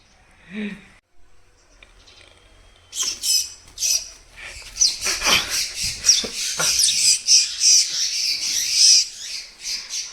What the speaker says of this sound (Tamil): குருவி குஞ்சு பாருங்க